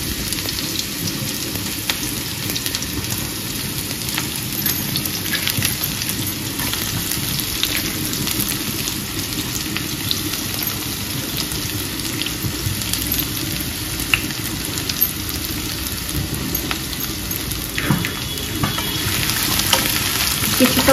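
Bay leaf and chopped onion fry in hot oil in a steady, dense sizzle with a soft rain-like crackle. It runs unbroken and fairly loud for the whole stretch, with occasional faint stirring clicks and no talk.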